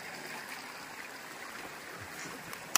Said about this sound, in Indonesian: kita basah-basahan di sungai nih